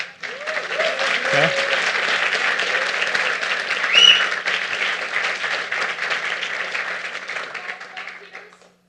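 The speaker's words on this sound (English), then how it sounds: "Can we get a round of applause for our organizers?" A conference audience at a Lua programming talk claps for the event organizers, a dense, sustained roomful of applause lasting several seconds, with a brief spoken word near the start.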